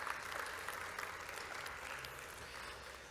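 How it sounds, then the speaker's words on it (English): Conference audience applauding during an opening welcome address; quiet, distant, even clapping that holds steady for a few seconds without a clear start or end. "we should also give ourselves a big round of applause"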